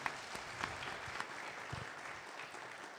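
An audience at an engagement ceremony applauds in a faint, continuous patter of many hands, distant and steady throughout.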